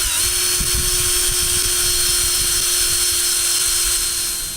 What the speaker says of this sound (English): I'm going to start pre-drilling the holes for the vise